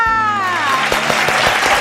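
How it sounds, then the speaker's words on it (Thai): Studio audience applause on a Thai television talk show welcomes a guest, starting right after a sliding tonal sound effect and continuing as dense, steady clapping. "ขอเสียงปรบมือต้อนรับคุณรอสซิลินทิพย์ค่ะ"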